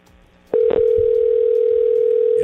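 A telephone line on an outgoing call cuts in with a loud, steady electronic tone that holds unbroken after a short quiet start, close and clear.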